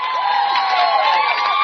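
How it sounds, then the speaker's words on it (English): A crowd at a 2A Maryland state softball championship game cheers and shouts steadily, loud and continuous with no breaks. "the crowd goes nuts"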